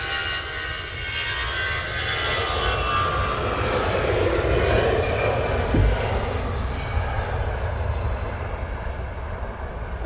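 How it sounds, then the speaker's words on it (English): A fixed-wing passenger airplane passes over Luton Airport in the morning, its engine roar a loud, steady broadband rumble that swells gently and fades, with no talk over it. "There's a plane going."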